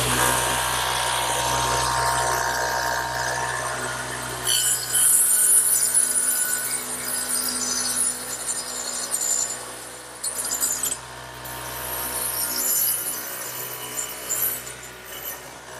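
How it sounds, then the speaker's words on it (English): A radial arm saw fitted with a dado head cuts a dado into a vertical wooden piece for a trestle table, a loud sustained whining grind with a steady motor drone that rises and dips as the blade bites and clears. "over on the radial arm saw, which again has the dado head in it"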